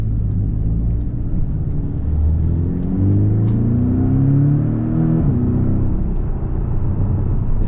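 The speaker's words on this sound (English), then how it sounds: "It's a turbocharged 4-cylinder. Okay, you could really hear the turbos on that." A 2024 Porsche 718 Boxster convertible with a turbocharged four-cylinder engine pulls under acceleration. Loud, close engine drone rises through the gears, drops with a shift, then climbs again over a steady road rumble.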